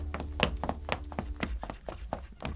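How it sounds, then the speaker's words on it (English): Knocking at a house's back door: a run of quick, sharp raps and thuds in uneven clusters, fairly close and clear, with no talking. "Hey, Willow, someone's at the back door."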